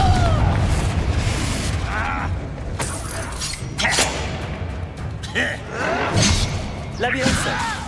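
Confringo fire-blast spells explode in Hogwarts Legacy combat: several booming bursts and thuds come at intervals amid other spell effects, with a voice shouting over the fight.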